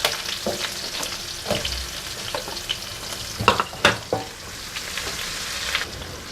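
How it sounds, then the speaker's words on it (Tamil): Chopped onions fry in hot oil in a pan for a fish curry, a steady close sizzle broken by several sharp clattering stirs of a spoon against the pan. "நம்ம கட் பண்ணி வச்சுருக்க வெங்காயத்தை உள்ளே சேர்த்துடலாம்"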